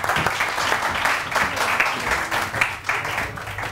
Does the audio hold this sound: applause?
yes